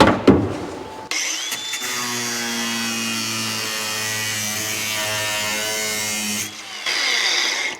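A power tool cuts through old trunk panel metal while fabricating a trunk gap, a steady high whining buzz that holds for about five seconds after a brief start-up, then stops abruptly.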